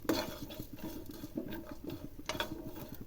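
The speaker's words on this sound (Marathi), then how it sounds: "आता त्याचे टाकायचे जिरे, ते सुद्धा चांगले व्यवस्थित भाजून घ्यायचे" Cumin seeds are dry-roasted in a pan and stirred steadily, producing a soft, continuous patter of scraping and rattling at a low level throughout.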